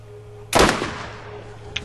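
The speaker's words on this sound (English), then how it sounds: "I love the sniper rifle." A single loud sniper rifle shot in the shooter game Borderlands, a sharp blast with a decaying tail, followed by a faint click.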